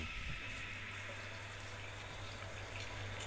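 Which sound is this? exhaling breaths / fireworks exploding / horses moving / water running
water running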